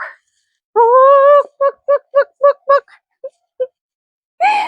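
A bird gives a long drawn call followed by a quick series of short, clipped clucks, then two softer clucks and another call at the end.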